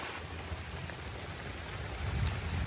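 Steady rain falls on trees around a campsite during a long stretch of wet days, a dense, continuous patter that swells slightly louder near the end, with no voices.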